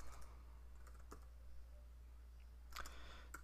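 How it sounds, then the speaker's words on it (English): Typing on a computer keyboard while writing shader code, short bursts of soft keystrokes with a quick cluster near the end, close up and quiet over a low steady hum, with no voices. "We're going to go ahead and type slim"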